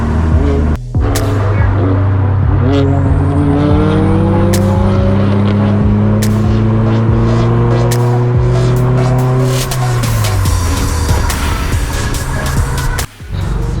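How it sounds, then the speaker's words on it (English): A BMW races nearby, its loud engine holding sustained revving tones that climb and fall, with tire squeal and skidding over a busy, continuous roar. "Got Hank trying to race the BMW."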